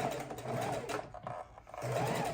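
A sewing machine stitches a quarter-inch seam around half of an ergonomic bone-shaped pillow, running in two fast, rhythmic bursts with a short lull between them, close and clear, with no talking.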